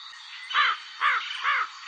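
A crow gives three harsh, evenly spaced caws, loud and close, with no other sounds around them.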